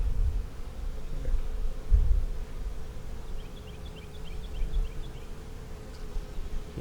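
Honey bees swarm around their queen in a continuous, moderate buzz over a low rumble of handling noise.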